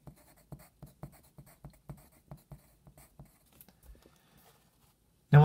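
A pen writes out math equations on paper: a series of soft, close scratching strokes in an irregular rhythm, ending with a brief louder thump.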